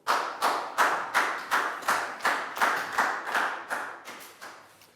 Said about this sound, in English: Round of applause for Pangpon.